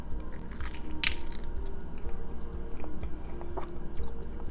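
Crunchy keto Big Mac egg rolls bitten and chewed close to the mic, a sharp crisp bite followed by steady, quieter crunching, with no talking.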